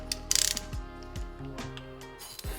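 A riv nut tool being set up with an M6 riv nut, giving a close, loud burst of rapid metallic ratchet clicks followed by scattered clinks and mechanical turning sounds, with no talking.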